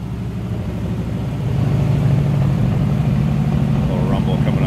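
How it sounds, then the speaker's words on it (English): A 1950 Ford Tudor flathead engine idling with a low, steady rumble close by, swelling slightly louder partway through and holding an even rhythmic throb, with a voice talking over it. "A little rumble coming out of that flathead."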